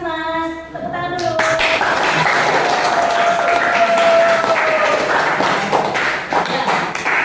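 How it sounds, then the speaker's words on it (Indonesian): A room of people breaks into sustained applause after a classroom demonstration about lifting a box into a toy car and making it move, dense clapping that fills the whole stretch at steady loudness. "Tepuk tangan dulu."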